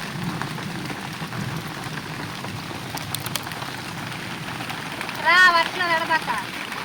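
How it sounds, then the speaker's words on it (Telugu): Continuous rain patters and hisses steadily through the trees of a garden at night, with a brief spoken voice near the end. "చెట్లలో వర్షం పడుతుంటే ఎట్లుంటుందంటే ఇట్లుంటుంది"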